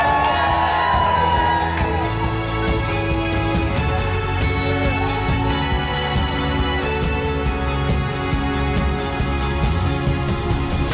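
Wedding guests at Bellingham Castle cheering and whooping after a toast, a loud continuous crowd roar with shouts and celebratory voices layered over background music.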